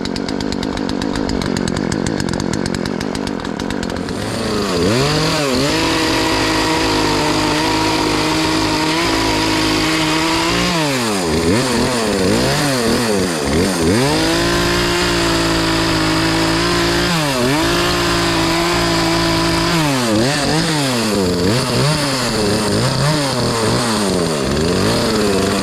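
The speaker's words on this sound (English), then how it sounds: "that's how you put on a chain on a Poulan Pro 42cc chainsaw" A Poulan Pro 42cc chainsaw, model PP4218A, runs and warms up after a chain replacement, its engine droning loudly nearby and revving up and down repeatedly in long swooping surges.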